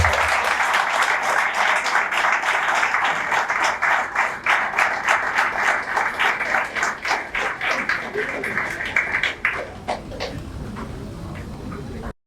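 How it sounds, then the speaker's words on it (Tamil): Applause for comrades at a Tamil literary event, a crowd clapping steadily in a distinct rhythm that thins toward the end and stops abruptly. "அனைத்து தோழர்களுக்கும் மீண்டும் ஒரு முறை ஒரு கரகோஷம்"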